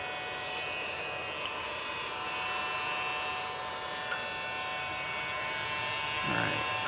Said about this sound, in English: just use a heat gun and heat them up a bit